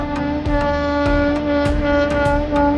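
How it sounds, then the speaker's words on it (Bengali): A train passes near a crowded flower garden, a loud continuous rumble with a sustained tonal hum and rhythmic clatter throughout. "দেখো কি আওয়াজ করে করে যাচ্ছে কিন্তু ট্রেনটা"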